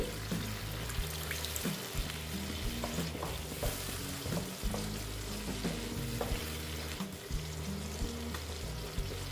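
Egg posto sizzling steadily in a pan as a little water is added, with loud continuous frying and stirring scrapes throughout.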